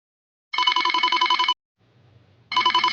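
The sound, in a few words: telephone ringing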